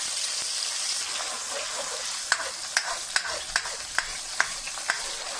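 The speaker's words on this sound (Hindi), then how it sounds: "अभी हम इसमें प्याज और टमाटर का पेस्ट डालेंगे और इसको अच्छी तरह से हम फ्राई करेंगे" Onion and tomato paste fries in hot oil with a constant bright sizzle, punctuated by a series of sharp spoon taps and stirring scrapes in the second half.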